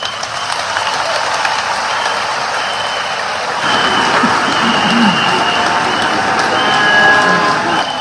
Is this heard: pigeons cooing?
no